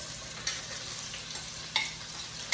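Onions fry in a Dutch oven with a soft, steady sizzle, broken by a couple of faint clinks or stirs, with no voices.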